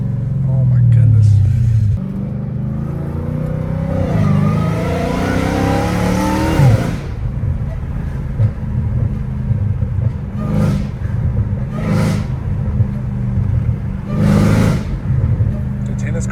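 Catless Dodge Hellcat Redeye engine roaring and revving, a deep, loud rumble that climbs in pitch through an acceleration, then several short sharp blips of the throttle, with voices talking over parts of it.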